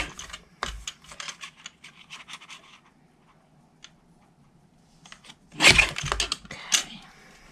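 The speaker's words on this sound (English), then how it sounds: "I'm going to cut this down to about 3/4 of an inch" Paper being trimmed on a paper trimmer while making a stamped Easter gift box: light scratchy slicing and rustling strokes, then a short quiet gap, then a louder burst of cutting and paper handling near the end, close and with no voices.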